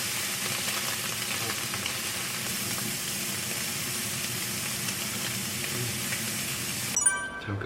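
Butter sizzles in a hot pan with a steady, close, crackling hiss that ends abruptly.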